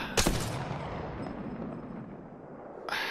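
R-301 rifle fire in Apex Legends: a sharp close burst at the start, then a rumbling decay and another crack near the end, loud with no talking.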